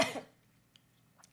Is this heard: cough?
yes